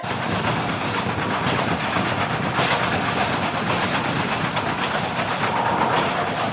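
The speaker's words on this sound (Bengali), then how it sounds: "এখন হাওড়া থেকে ট্রেনটা ছাড়লো ঠিক টাইমেই" The Tamralipta Express runs on rails out of Howrah, a loud, continuous rumble with rhythmic clickety-clack from the wheels and close carriage noise, with no voices.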